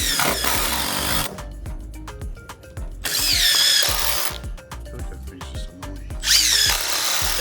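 Power drill driving screws into deck framing built over a concrete slab, in loud whining bursts that rise and bog down, with pauses of hammering and tool clatter between them.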